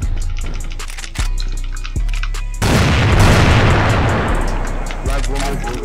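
A grenade going off in a first-person shooter game: a heavy boom followed by a long rumbling roar, with sharp gunfire clicks before it and players' voices in the mix.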